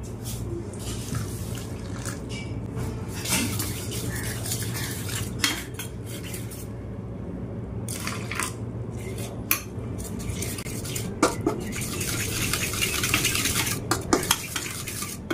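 A spoon stirs cornflour into a batter in a bowl for veg paneer cutlets, making quiet repeated clinks and scrapes against the bowl, close by with no talking.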